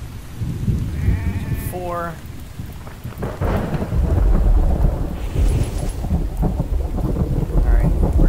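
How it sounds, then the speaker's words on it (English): Rumbling thunder and steady rain in the survival game The Infected, with the storm rolling loudly through the background while a sheep-like bleat and a few other in-game sounds rise briefly near the start. "I love, love, love the sound of the thunder in this game."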